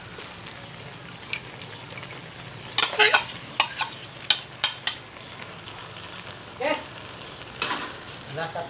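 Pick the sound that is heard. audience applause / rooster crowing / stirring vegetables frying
stirring vegetables frying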